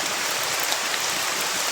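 Steady rain pours down outdoors as a dense, continuous hiss of drops, fairly loud and unbroken, with no voices over it.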